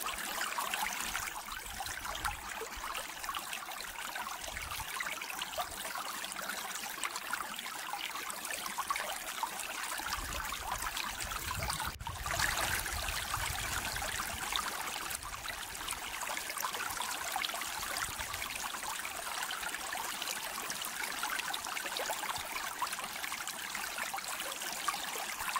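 The Girna river flows past, a faint, steady wash of moving water heard from a distance for the whole stretch.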